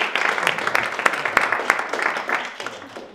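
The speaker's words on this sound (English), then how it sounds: "Have a round of applause." An audience at a speed-networking masterclass gives a round of applause, a moderate burst of clapping with distinct individual hand claps, close and steady and tapering slightly toward the end.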